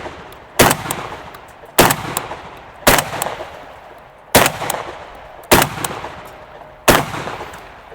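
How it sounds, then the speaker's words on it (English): Titan TTF-12 shotgun firing high-velocity slugs, six loud, sharp blasts spaced about a second apart, each followed by a short decaying echo. "Dude, these Titan TTF-12s are just fun to shoot"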